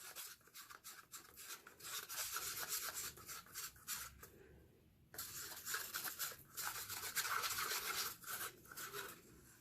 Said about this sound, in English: Mix, mix, mix until it's dissolved.